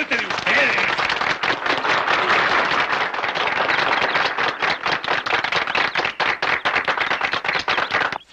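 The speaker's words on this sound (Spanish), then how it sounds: "¡El aplauso fuerte de ustedes!" An audience claps loudly in sustained, dense applause for a performer announced with a band, continuous and close throughout.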